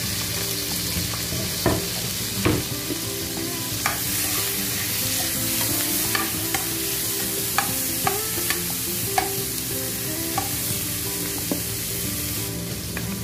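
Tomatoes go into a pan and fry with garlic and onions, giving a continuous close sizzle with intermittent stirring scrapes and clinks throughout, with no talk.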